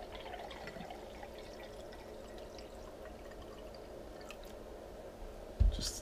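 Sparkling mineral water poured into a glass, a quiet trickle with faint drips and a few fizzy crackles, ending in a short louder knock.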